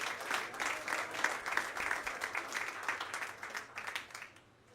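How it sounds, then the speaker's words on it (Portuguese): Dense, steady applause rises from a congregation at an evangelical church service, then fades away toward the end, with no voices over it. "Aplauda ao Senhor, em nome de Jesus."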